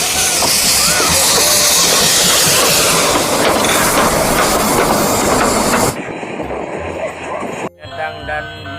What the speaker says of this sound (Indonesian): rupanya kereta apinya bisa berjalan